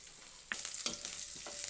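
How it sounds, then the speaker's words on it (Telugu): Tempering spices sizzle softly in a pan over a low flame, a quiet crackle that jumps louder partway through, with light stirring clicks and scrapes breaking in at intervals. "ఇవి చిన్న మంట మీద మంచిగా వేంపుకుందామండి"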